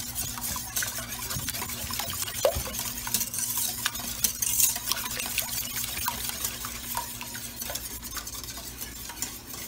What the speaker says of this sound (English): We wanna bust our eggs up pretty good.